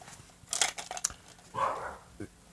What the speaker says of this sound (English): The damn dog barking.